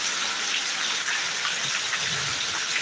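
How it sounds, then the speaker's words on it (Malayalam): Heavy summer rain pours down in a steady, dense hiss that never lets up, with no voices over it. "നല്ല കിടിലം മഴ"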